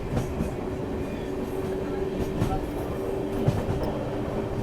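An express train of the 22611 MGR Chennai Central–New Jalpaiguri superfast service picks up speed, heard from inside the coach as a dense, constant rumble of wheels on rail with rhythmic clatter and a faint metallic whine.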